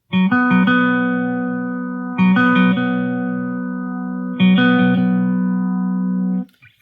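Clean electric guitar, a Mexican Fender Stratocaster, picks out a short repeating melodic phrase three times, each note ringing and sustained, with no voices.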